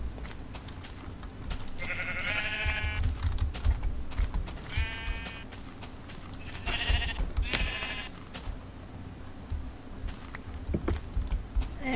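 Several sheep bleats from the Minecraft Tekkit modpack ring out in short bursts, spaced a few seconds apart, as sheep are killed, over clicking keyboard and mouse noises.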